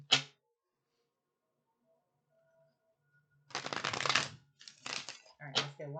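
After a quiet pause, a deck of tarot cards is shuffled in several quick, crisp riffling bursts, close and clear.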